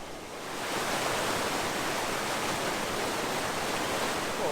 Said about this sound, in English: Something about the sound of running water.